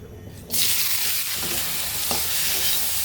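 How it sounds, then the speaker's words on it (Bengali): Dried loitta fish (Bombay duck) hits hot oil in a wok. After a quiet half second, a loud, close, steady sizzle bursts in and holds, with faint stirring scrapes underneath. "কড়াইতে আমি কিছুটা তেল দিয়ে দিচ্ছি। মাছগুলো একটু ভেজে নেব।"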